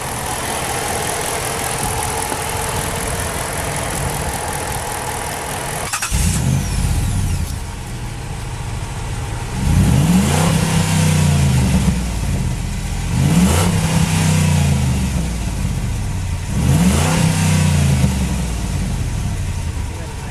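A 2005 Jeep Grand Cherokee Limited with a 330-horsepower V8 Hemi cranks to life after an idle, then gives three loud, close revs that swell and fall away in a steady rhythm.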